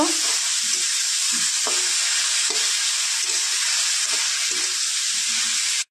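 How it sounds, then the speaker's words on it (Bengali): Turmeric frying in a pan sends up a constant loud hiss of sizzling oil, with soft rhythmic scrapes of a spatula stirring through it and no voices. "নিয়ে নেব হলুদ পরিমাণ মতো, একটু ভালো করে ভেজে নেব।"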